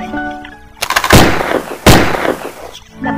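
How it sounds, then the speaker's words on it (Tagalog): Gunshots fired into the air in a Filipino audio drama, two sharp, loud reports about a second apart, each trailing into a ringing echo. "Biglang nagpaputok sa ere."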